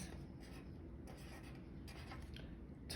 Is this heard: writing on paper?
yes